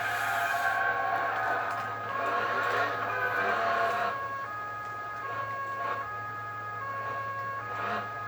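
Steady wailing police siren from the Alarm für Cobra 11 video game over a constant engine hum, loud and continuous throughout.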